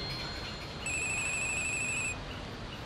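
A telephone rings with a single bright electronic trill lasting just over a second over a hissy room background, then stops; no one speaks.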